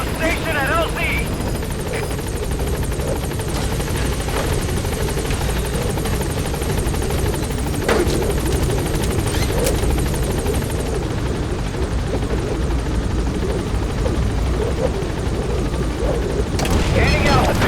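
Helicopter rotor thumping loud and steady throughout in a Metal Gear Solid V landing-zone arrival, with game radio voices, a few booms and gunfire bursts mixed in.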